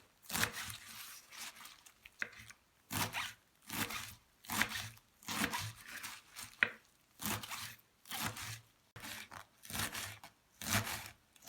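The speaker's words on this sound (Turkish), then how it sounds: "Şöyle marullarımızı ince ince doğrayalım." A knife chops lettuce finely in repeated crisp strokes, a rhythmic series of about a dozen crunchy cuts, close and fairly quiet, with no talking.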